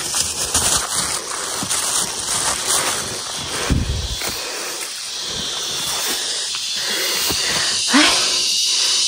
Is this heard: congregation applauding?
no